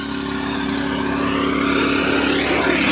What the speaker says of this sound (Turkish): Tam evinin üstünden gidiyor.